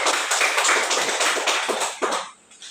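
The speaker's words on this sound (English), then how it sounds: "Give yourself a clap." Students in an English class lesson clap their hands: a dense, steady run of many overlapping claps that fades out near the end.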